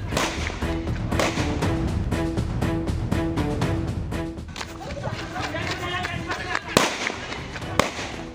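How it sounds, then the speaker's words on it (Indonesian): Police hunting a suspect in Pangkal Pinang, Bangka Belitung fire a rapid series of sharp warning gunshots outdoors, cracks coming in quick succession and then a couple of isolated louder reports, with voices and commotion underneath. "Sejumlah tembakan dilepaskan petugas saat memburu pelaku."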